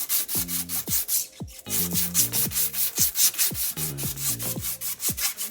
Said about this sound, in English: I'm just sanding the stub axle very slightly so the bearings move freely on the stub axle